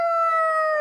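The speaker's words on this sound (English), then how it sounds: "they release this siren" A fire station siren wails over rural hill country, one steady, loud, sustained tone holding at an even pitch and filling the moment alone.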